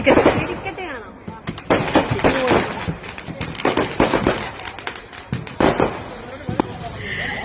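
Sharp bangs and crackling bursts go off repeatedly, some close and loud, others fainter, with crowd voices murmuring underneath throughout.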